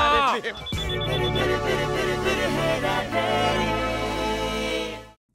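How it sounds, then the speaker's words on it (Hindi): A telephone rings on and on in a tense climax scene of the 2006 Hindi comedy film Phir Hera Pheri, with a steady bell tone running loud for about five seconds over layered music and voices, then stopping abruptly. "राजू प्लीज फोन उठा"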